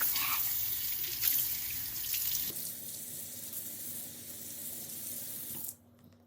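Water running from a tap into a sink, steady close splashing hiss that lessens partway through and then cuts off abruptly near the end, with no talk.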